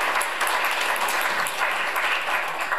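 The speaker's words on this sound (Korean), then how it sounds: "예수 그리스도의 이름으로 박수 올려드립니다" Steady applause from an audience at a Korean charity launch ceremony, a dense even wash of clapping that holds at a constant level for a few seconds with no voices over it.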